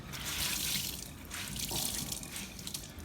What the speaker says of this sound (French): Je vais utiliser un torchon que je vais mouiller avec de l'eau chaude.